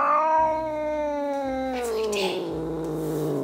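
A cat gives one long, close, drawn-out meow that slides downward over about three seconds, with a low steady hum underneath.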